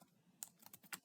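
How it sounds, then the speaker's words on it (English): Clacking keystrokes on a computer keyboard, a quick irregular burst of separate taps, close and fairly quiet, with no talking. "So I'm typing as a"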